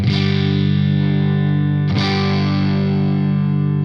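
Electric guitar distorted through a Marshall ST20 amplifier with no master volume, two sustained chords played loud and close, the second struck just before the midpoint and left ringing.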